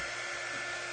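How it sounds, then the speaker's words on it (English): Hair dryer blowing, a loud, steady broadband whoosh with a constant motor hum running throughout, close up and with no voices. "He does not appreciate the dryer."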